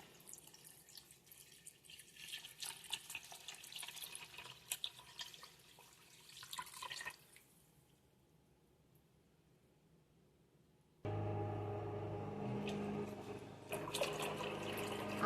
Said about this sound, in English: And then we're just going to simply add water to our pot.